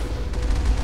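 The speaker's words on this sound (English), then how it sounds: "Cannon shot missed everyone." A single heavy vehicle cannon shot from Mass Effect, a deep booming low rumble filling under a second, loud and close with no talk over it.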